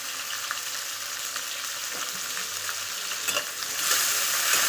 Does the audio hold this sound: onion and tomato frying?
yes